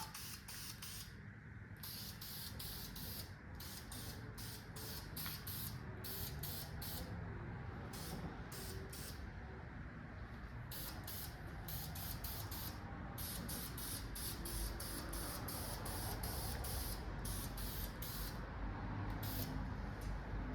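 Continuous loud hiss of a spray gun or aerosol painting a modified 351 engine, pulsing in short bursts with brief gaps, over a steady low rumble, close up.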